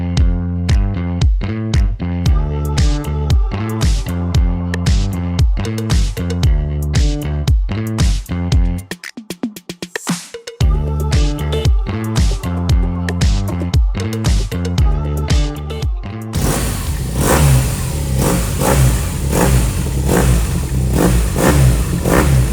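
A 2019 BMW R Nine T 1200 ABS motorcycle engine revs loudly and steadily in a rapid, repeated rhythm, briefly dipping near the middle before settling into a rougher, noisier running sound toward the end.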